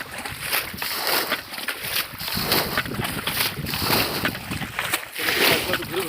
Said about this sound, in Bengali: আমাকে জলটাকে বালতি দিয়ে ছেঁচে ছেঁচে বাইরে ফেলতে হচ্ছে জমির থেকে।